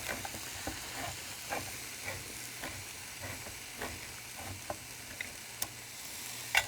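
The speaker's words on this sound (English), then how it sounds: "Stir that around. You want to make sure the tomatoes are in before the spices start to burn." Tomatoes and spices fry in a pan, with a soft continuous sizzle and a series of light scraping ticks as a utensil stirs them.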